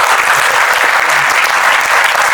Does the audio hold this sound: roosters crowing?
no